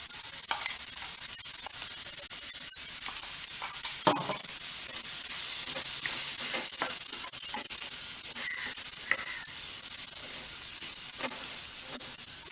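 Carrots coated in ground masala powder sizzle in a pan over a low flame, a soft, steady hiss broken by scraping stirs and clicks.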